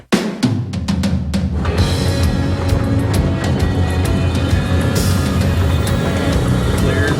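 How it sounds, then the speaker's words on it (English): An aircraft taxiing gently down a taxiway, a loud, steady, close engine roar that starts abruptly and holds continuously without a break. "We're just going to taxi gently down the taxiway."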